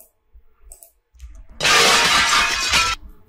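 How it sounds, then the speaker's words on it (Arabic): Glass shatters loudly in one sustained crash lasting over a second, preceded by a few faint knocks and rustles. "هنا صوت قزاز يتكسر"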